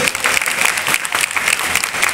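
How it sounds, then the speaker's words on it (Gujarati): A crowd at a retirement farewell ceremony for a bus depot conductor in Vadnagar claps loudly and continuously, a dense, close burst of applause throughout. "એટલે ફરી એક વખત જોરદાર તાળીઓ."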